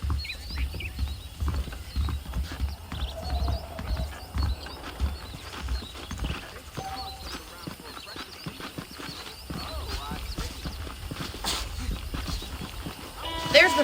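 Horse hooves clip-clop in a steady walking rhythm while a rider travels in the Western video game Red Dead Redemption, mixed with game ambience, an occasional whinny and a character talking over it.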